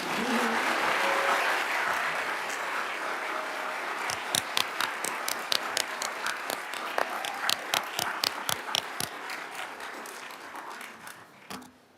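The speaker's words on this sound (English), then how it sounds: "You can clap for that group now." An audience at a college graduation awards ceremony claps, a steady wash of applause with sharp individual claps standing out, gradually thinning and fading toward the end.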